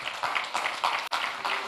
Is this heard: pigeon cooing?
no